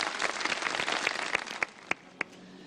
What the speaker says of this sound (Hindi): वाह वाह वाह वाह, बढ़िया वाह, तालियां बजाएं।